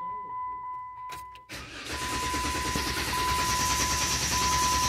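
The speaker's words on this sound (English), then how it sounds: "I'm gonna push the accelerator to the floor, and this one here, it'll crank till it starts." A car engine cranks with the accelerator held to the floor after its oil filter has been primed, then catches and settles into a loud, steady run; a faint tone runs underneath throughout.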